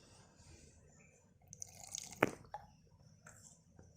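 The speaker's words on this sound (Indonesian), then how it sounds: "Saya akan basahi dulu talinya." Water dripping and splashing as a rope is soaked for knot-tying practice, with scattered small drips and one sharp splash in the middle over a faint background hiss.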